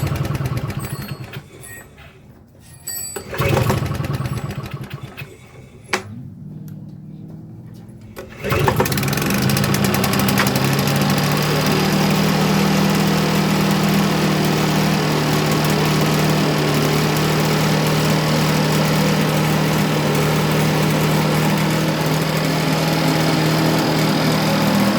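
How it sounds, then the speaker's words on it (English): A Victa Mustang two-stroke lawn mower is pulled over with several sputtering attempts, then catches and settles into a steady, loud, buzzing idle that runs on alone for about fifteen seconds, close to the listener. "Okay, let's try start the engine."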